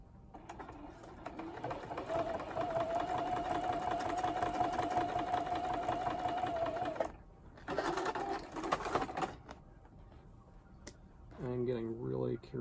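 A sewing machine fed from an external spool stitches a quilted acrylic-painted pineapple piece, with a loud, steady mechanical hum and rapid needle clatter for about seven seconds, a brief pause, a shorter burst, and then someone speaking.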